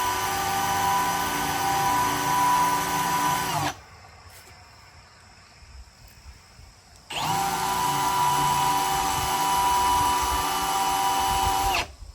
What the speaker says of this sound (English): I don't think I got a real sharp drill bit here